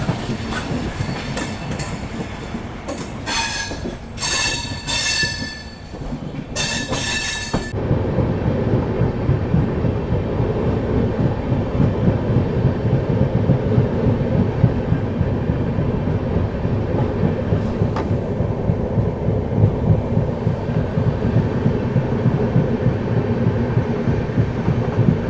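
A train rolls steadily across a series of rail crossovers toward the Kalka line out of New Delhi, with loud continuous rumble and wheel clatter throughout, after a brief burst of sharper metallic noise near the start.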